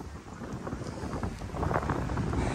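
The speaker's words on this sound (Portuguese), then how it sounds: "É o vento." Strong wind blows steadily and roughly across the microphone on a beach promenade along Beira-mar Norte in Florianópolis, with a rough sea nearby. The rumble grows louder toward the end.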